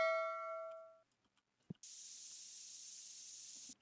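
A spray can in the TCG Card Shop Simulator video game gives a steady two-second hiss. A chime rings and fades just before it, and a short thump falls between the chime and the spray.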